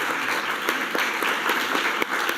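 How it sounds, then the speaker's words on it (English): Steady applause from a press conference audience, dense and even with a few sharper claps standing out close by. "A big round of applause to them."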